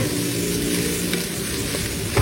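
Onions frying in a pan with a steady close sizzle and faint stirring, ending in a short louder scrape.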